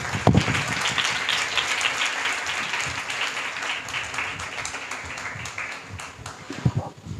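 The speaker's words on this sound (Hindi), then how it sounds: "एक बार फिर जोरदार तालियां बजाएं भाई के लिए" Congregation at a church gathering applauding, a dense wash of clapping that holds steady for several seconds with a few louder claps near the start and end.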